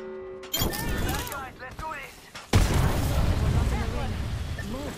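Enemy gunfire in a video game breaks out in sharp, heavy bursts and booming impacts, with a sudden loud blast midway, while a voice talks prominently over it.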